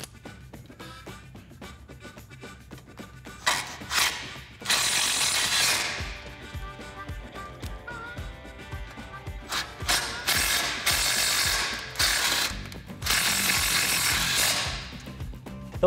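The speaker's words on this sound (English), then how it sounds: "the screws that come with your kit are self-tapping, so you can just run those right in there with the bracket in place" Self-tapping screws are power-driven into a sway bar disconnect bracket on a Jeep Wrangler JK, several bursts of whirring tool noise with mechanical ratcheting between them, close and fairly loud with no talk.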